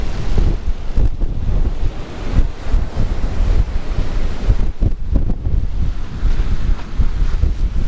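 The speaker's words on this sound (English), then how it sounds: "I'm getting battered by the surf now." Steady roar of wind buffeting the microphone over breaking sea surf on Hornsea beach during a sea-fishing match, loud and continuous with gusty surges and no talk.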